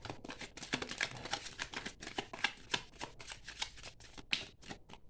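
Tarot cards are shuffled by hand in quick, crisp riffling flutters, a rapid run of soft slaps and rustles up close and fairly quiet, with no talking.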